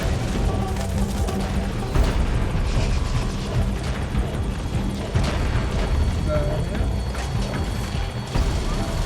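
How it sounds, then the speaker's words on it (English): A support helicopter arrives in Metal Gear Solid V: The Phantom Pain with a steady, loud rotor rumble, mixed with crashes and impacts of combat and radio voices speaking over the din. "Support helicopter has arrived."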